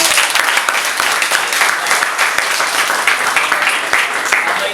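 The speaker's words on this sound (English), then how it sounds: "let us all give a big hand of applause" Audience at an evening class debate program clapping for the speakers, a dense, steady burst of many hands sustained for several seconds, loud and close.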